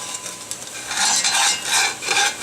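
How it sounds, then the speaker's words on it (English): A wooden spoon scrapes browned bits from the bottom of a pot deglazed with boxed Merlot for beef stock, giving repeated close rasping strokes in uneven bursts with no talking. "I'm going to scrape up the little glamis"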